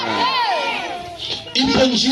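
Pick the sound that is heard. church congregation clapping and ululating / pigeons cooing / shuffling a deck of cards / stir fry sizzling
church congregation clapping and ululating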